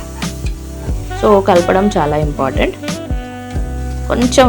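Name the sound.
food stirred while frying in a pan with oil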